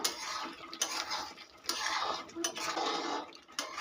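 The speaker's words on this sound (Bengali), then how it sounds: "গরম মশলা ভেন্ডির সঙ্গে খুব ভালো করে মিশিয়ে নেব" A spoon scrapes and clinks against a pan while garam masala is stirred into cooking okra, with soft irregular metallic taps and rustling at close range and no talk.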